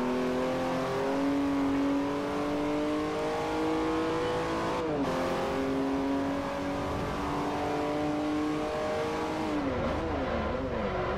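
Racing car engine in Forza Motorsport 4, a Class B race, revving loud and continuous with rising pitch sweeps and a couple of gear-shift drops, no voices.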